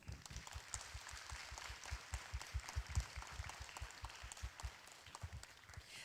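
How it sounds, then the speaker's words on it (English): Applause from the audience at a college of the arts convocation ceremony, a steady patter of many hands clapping at moderate volume in a large hall, fairly even throughout with no talk over it. "So how about giving yourselves a big round of applause"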